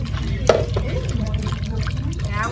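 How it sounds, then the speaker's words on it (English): Boiling hot water is poured into a tomato paste and dry roux mixture for Turkish cream of tomato soup, then stirred. It makes a close, continuous liquid splashing with a soft burble over a low background rumble. "you're going to add boiling hot water to the tomato paste and dry roux mixture and stir it well"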